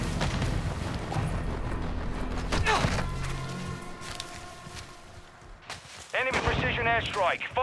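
Gunshots and heavy thuds in a Call of Duty MW2 multiplayer match, bursts of fire and booming impacts at a distance, with a voice talking over the action.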